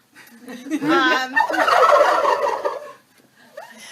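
Live male turkeys on a turkey farm, heavy birds of about 36 to 47 pounds, let out a loud close gobbling chorus of rapid warbling calls, fading out before a brief final gobble.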